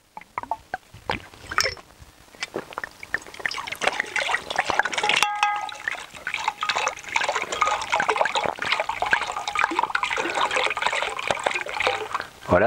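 Stainless steel plates strung on wires lowered into about a litre of water, giving a sustained sloshing, trickling and bubbling of liquid with a few clinks, close and fairly loud throughout.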